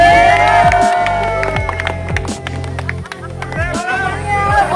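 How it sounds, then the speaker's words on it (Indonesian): A crowd at a graduation celebration at a villa claps and cheers, a continuous wash of applause and whoops with voices mixed in throughout. "tepuk tangan dong"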